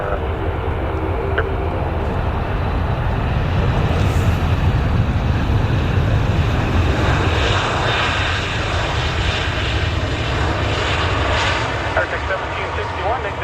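Airplane engines roar steadily and loudly at YYC airport as a plane lands, a continuous broad rumble with wind noise on the microphone, while air traffic control radio talk runs underneath.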